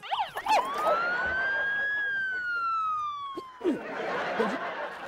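An ambulance siren in a Hindi TV serial scene sounds close and loud, with a rising wail that holds steady and then falls away. Brief rustling and voice-like sounds come before it and after it.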